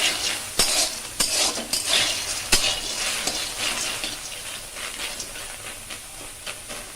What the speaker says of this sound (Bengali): হালকা আছে ভাজবো, আস্তে জোরে দেবো না, তাহলে পুড়ে যাওয়ার সম্ভাবনা থাকে।